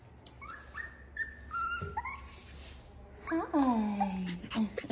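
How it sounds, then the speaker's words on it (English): A small chocolate-and-white Yorkie Poo dog whimpers and whines in a run of high, wavering cries, close to the microphone, with brief soft talk from a person in places. "So that is little Yuri the Yorkie Poo. She is chocolate and white"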